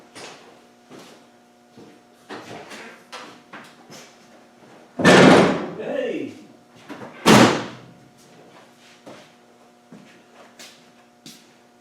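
A Land Rover 300Tdi bonnet pops open on its cable release catch: two loud metallic clunks about two seconds apart, over faint scattered knocks and a low steady hum.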